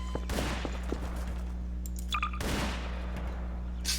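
Gunfire in the video game Garry's Mod, two sharp bursts of shots about two seconds apart, each with a short rolling tail, over a steady low hum and a faint high beep.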